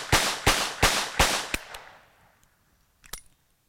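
A Webley & Scott Mark IV .38 S&W revolver fires five sharp, loud shots in quick even succession, echoing away into a short quiet before a faint click.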